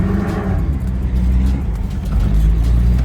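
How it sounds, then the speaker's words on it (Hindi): A jeep engine drones and revs continuously, loud and close, as the vehicle slides without traction on fog-covered snow in Murree. "गाड़ी बिल्कुल ट्रैक्शन से आउट है और ड्रिफ्टिंग मोड पे गई हुई है"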